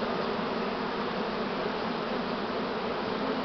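A large swarm of Buckfast honey bees buzzes steadily and densely, a continuous droning hum filling the air without pause, fairly close and with no talking.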